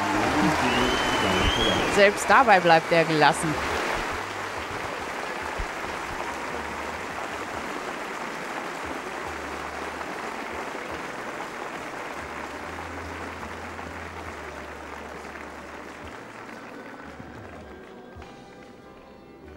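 A horse show crowd claps in sustained, dense applause that holds steady for many seconds and then gradually tapers off, with someone briefly speaking over it near the start.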